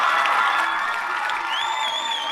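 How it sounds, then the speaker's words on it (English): An audience applauds and cheers for a stage cast, a steady wash of clapping with whoops and shouts throughout, fairly loud and close. "a big round of applause to all of you at home for joining us"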